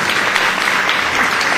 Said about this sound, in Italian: io vi prego di tributare un applauso a Rosolino Greco